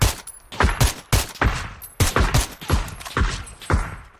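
Rapid bursts of gunfire in the video game PUBG, loud, close, repeated shots in quick clusters with short gaps, no talk over them.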